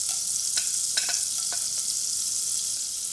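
Cloves frying in groundnut oil and butter for tomato soup, a steady close hiss of sizzling fat with a few light clicks and pops scattered through, no voices.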